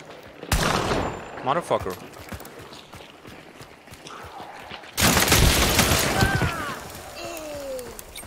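Gunfire in the game Hunt: Showdown, with a sharp shot near the start and a heavy burst about halfway through that rings out over the ambience, while a player curses.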